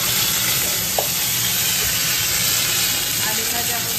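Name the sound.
potatoes frying in a pan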